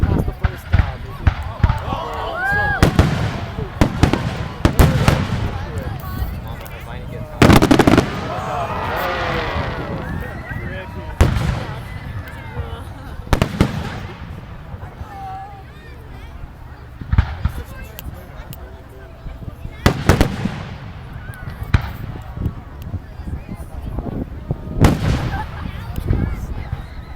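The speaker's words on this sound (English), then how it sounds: "I hear they import these fireworks from China." Sharp booming bursts and crackling pops of Canada Day fireworks go off repeatedly at irregular intervals, some loud and near, with voices talking in between.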